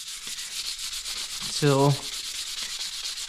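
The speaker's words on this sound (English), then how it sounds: "you just want to keep sanding" Sandpaper works the wood of a handmade Comanche short bow in repeated rhythmic strokes, a continuous close scratchy rasp, with one short spoken word partway through.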